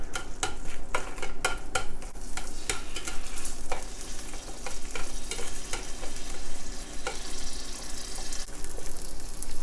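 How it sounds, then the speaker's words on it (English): Dry pollock stir-frying in sesame oil, a steady loud sizzle punctuated by repeated scraping and clacking of a utensil against the pan, close and continuous without talk. "We'll start by stir frying Pollock."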